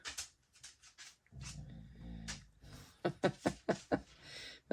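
A small dog under a desk in an art room vocalizes with soft growly grumbles and whines, then a quick series of short yips and vocal bursts, close and fairly quiet.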